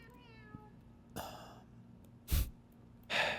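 Several cats sing out in drawn-out meows, one with a rising-and-falling wail early on, followed by a few louder, breathy cries spaced about a second apart, close by with no talk.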